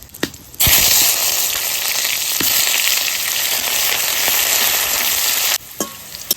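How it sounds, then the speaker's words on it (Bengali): Onions frying in hot mustard oil in a wok with bay leaf, cumin and dried chilli, a loud steady sizzle that starts abruptly after a few faint clicks and runs for about five seconds before cutting down, with no talk. "পেঁয়াজ ভাজা হয়ে গেছে"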